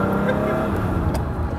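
Ferrari 512 BBi flat-twelve at full throttle, heard from inside the car as a steady, loud low engine roar with a faint voice briefly underneath.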